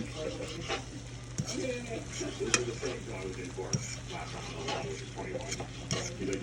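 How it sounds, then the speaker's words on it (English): Eggs being scrambled in margarine in a frying pan, with steady stirring and scraping of utensil against pan over a soft sizzle, plus a few sharper clinks, close up and moderately quiet. "margarine, a little bit of spread for the eggs. Scramble these eggs up a little bit."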